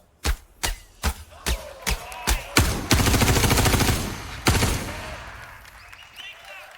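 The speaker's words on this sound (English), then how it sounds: "And then this next demo, we're going to fire some bullets." Gunfire into water in a Star Citizen water demo: about eight sharp, loud single shots in steady rhythm, then a dense sustained burst with rushing splashes, trailing off with one last shot and a fading wash.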